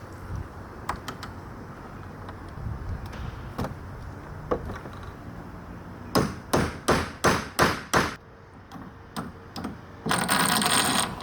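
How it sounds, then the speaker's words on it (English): A hammer strikes a nail punch to seat a caster into a wooden dresser infested with termites. About seven sharp metallic blows come in a quick steady rhythm after some quieter handling and taps, then a short rustle. "Got a nail punch, so we're just going to hammer it in there"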